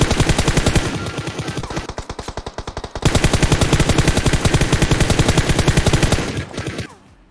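Sustained rapid automatic gunfire in the video game PUBG Mobile, a steady dense stream of loud shots with a brief slowdown in the middle before resuming and cutting off at the end.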